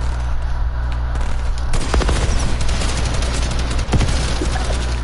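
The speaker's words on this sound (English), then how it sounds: "They're shooting at us." Rapid bursts of automatic gunfire crackle in a shooting video game, a dense volley of close, loud shots over a steady low rumble.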